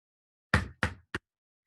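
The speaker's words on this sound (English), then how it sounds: "She took hold of the knocker and banged on the door." A heavy knocker bangs three times on a large cave door, two solid knocks followed by a shorter third, close and loud with silence around them.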